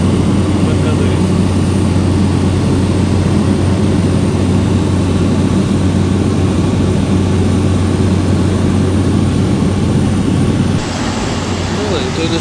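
A small airplane's engine drones loudly and continuously inside the cabin during landing near Mikumi National Park in Tanzania, a steady propeller hum with a slight change in pitch near the end.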